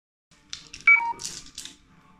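A mobile phone beeps its low-battery warning, a few short electronic tones rising over faint rustling.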